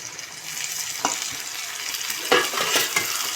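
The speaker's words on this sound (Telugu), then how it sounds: "బాగా కలిపేసుకోవాలి బాగా టమాటా ఉడికేంత వరకు కలుపుకోవాలా" Tomatoes being stirred into fried onions for a chicken curry, a constant sizzle from the pan cut by a few sharp scrapes and knocks of the spoon, close and steady, with no voices.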